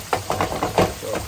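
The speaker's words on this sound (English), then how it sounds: "And now we chop it up." A spatula chops cheesesteak meat and sharp cheddar on a hot griddle, about six quick scraping knocks in a steady rhythm over a constant sizzling hiss, close and fairly loud.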